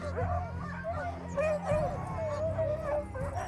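Racing sled dogs at a dog yard barking, yipping and howling together in a dense, excited chorus, close and continuous, with a voice faintly underneath.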